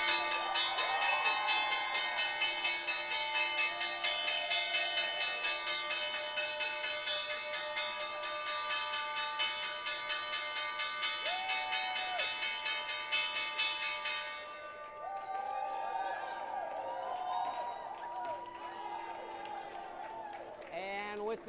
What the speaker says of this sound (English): We got the Junior League of the City of New York here now to ring the closing bell.